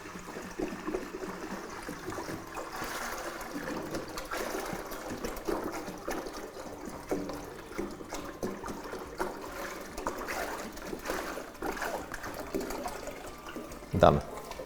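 Treated water pours into a pressure pump while an immersion rack cooling system is being filled, a steady soft trickling and filling sound running throughout with a brief louder knock near the end.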